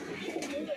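Prize pigeons kept by a fancier coo softly at close range in one brief, low call under a background murmur.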